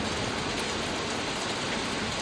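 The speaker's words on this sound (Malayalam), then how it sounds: "അപ്പം മഴ കണ്ട് കിടക്കുവാട്ടെ" Rain falling steadily, a dense, constant hiss of drops on surfaces, fairly loud and unbroken with no voices.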